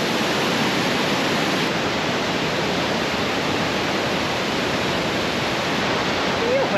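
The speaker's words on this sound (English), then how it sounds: "Huge waterfall there." A huge waterfall in Mondulkiri, Cambodia, roars as a dense, steady broadband rush of falling water, loud and unbroken throughout.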